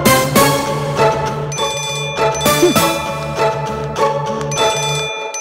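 A telephone rings in a Tamil drama scene, repeated bursts of a bright electronic ringtone with short pauses between them and no talking over it.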